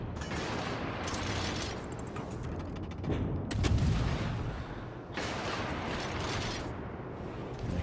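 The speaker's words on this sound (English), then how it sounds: "But now we can start firing." Naval gunfire from the destroyer Fletcher in World of Warships, a steady roar of rumbling shots and booms with a heavier burst midway, loud and continuous with no talk.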